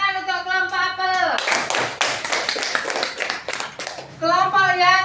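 A group of children claps hands in unison during a classroom activity, a burst of dense, rapid clapping lasting a few seconds, with voices chanting just before and after.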